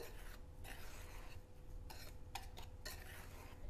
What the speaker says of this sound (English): So with your whisk, give it just a gentle stir.